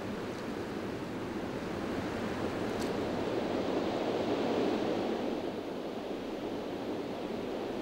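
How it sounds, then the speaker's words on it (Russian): A river in flood pushes huge waves of brown water along, producing a steady, broad roaring rush with no break, heard alone without talk. "Громадные валы коричневой воды сокрушают все, что возникает на их пути."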